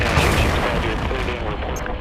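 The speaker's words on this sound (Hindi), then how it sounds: "फिर अचानक उसके नजदीक मिसाइल धमाका होता है।" Hellfire missile exploding close to its target, a sustained dense rumbling blast with heavy low-end roar filling the whole stretch at steady high loudness, no distinct separate bangs.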